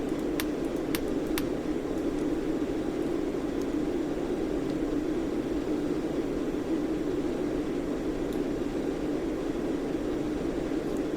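Rain patters steadily against an Airbus airliner during descent in Microsoft Flight Simulator X, a soft continuous hiss blended with the constant drone of the cabin and engines, no talking.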